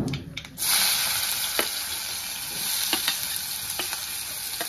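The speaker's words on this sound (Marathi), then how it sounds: "जिरे मोहरी झाल्यानंतर आपल्याला कांदा तळून घ्यायचा आहे" Onion frying in hot oil with cumin and mustard seeds, a steady loud sizzle running throughout with a few sharp crackles and pops over it, no voices.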